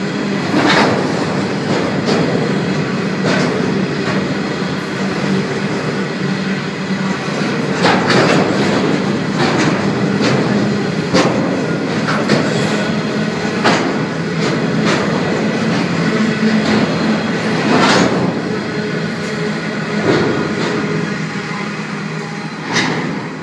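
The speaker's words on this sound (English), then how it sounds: "Freight is now approaching." A freight train rolls through Pennant Hills station on the Sydney Trains network, loud and near, with continuous rumbling and repeated rhythmic wheel clacks as wagons pass steadily for over twenty seconds.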